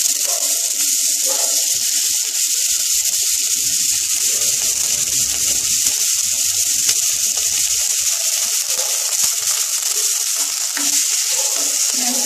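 Onions sizzle steadily in a spoonful of hot oil in a pan, a dense continuous frying hiss that stays close and loud throughout, with faint scraping underneath and no talking.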